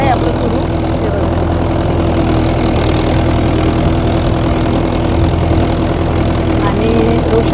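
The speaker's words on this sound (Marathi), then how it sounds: "हे बघा ट्रॅक्टर आहे आपलं सुरू." A farm tractor engine running while someone sits aboard, a loud, steady low rumble that continues without a break for the whole stretch.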